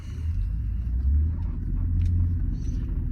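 Interior of a car on the move, a steady loud low engine and road rumble with a constant droning hum and no talking.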